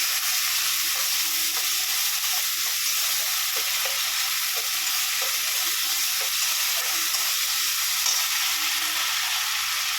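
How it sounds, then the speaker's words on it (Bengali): Spices with cumin powder and salt fry in oil for a tangra fish curry, giving a loud continuous sizzle with soft stirring scrapes running underneath. "জিরে গুঁড়ো দেবো, একটু নুন দেবো, নুন দিয়ে একটু ভালো করে এবার ভেজে নেবো।"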